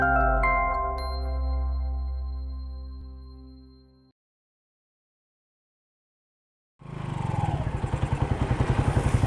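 An antique motorcycle engine starts up after a stretch of music and a few seconds of silence, then settles into a close, loud, rhythmic idle with a pulsing thump.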